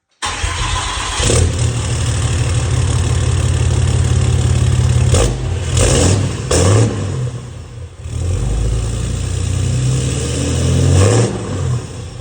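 A Cummins diesel engine with its EGR deleted cranks over, catches and settles into a loud, steady idle with a few throaty blips of revving, heard up close with no talking.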